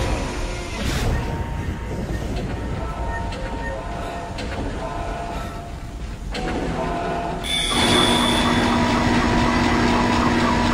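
A tram in the sci-fi horror game Dead Space rumbles and rattles along its rails in a continuous rolling drone. The noise swells into a louder, brighter roar near the end, with talk mixed in.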